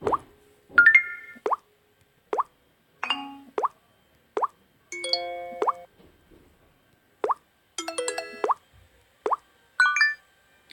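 Short, separate iPhone-style electronic notification chimes and pops, one after another about a second apart, each brief and crisp with silence between.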